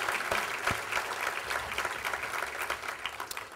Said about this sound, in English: If we could please have a round of applause for all of our sponsors